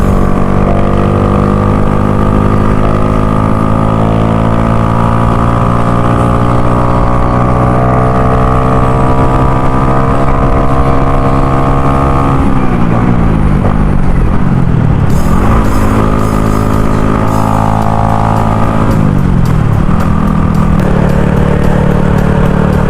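A Honda 110i motorcycle fitted with a 50 mm piston runs loud and steady close by, its engine note holding then shifting pitch with revs in the second half; no talking.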